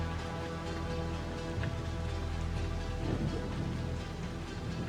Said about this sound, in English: You hear the rain now, the thundering.